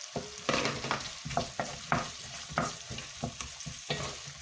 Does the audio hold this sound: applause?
no